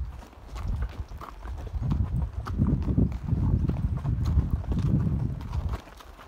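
Pack horses on a road heading into the Sawtooth Mountains clop along in a steady, uneven rhythm of hoofbeats, close and clear against quiet outdoor surroundings, with no talking.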